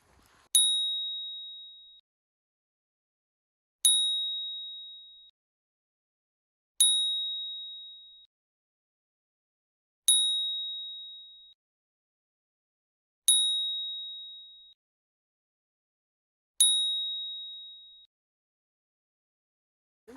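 Metal detector signal tone while digging in a forest: six clear, high electronic pings at a steady, slow rhythm, each ringing briefly and fading, separated by near silence.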